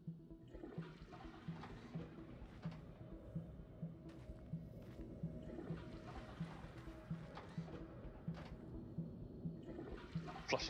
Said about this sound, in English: Flushing toilets does not restore your health.